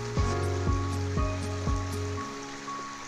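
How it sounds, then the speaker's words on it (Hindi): River water murmurs and flows steadily near a riverbank in a Jharkhand village. A soft continuous wash runs behind a few rhythmic low thumps and tonal hum, then the sound thins out toward the end. "पानी की कल कल कल कर की आवाज़"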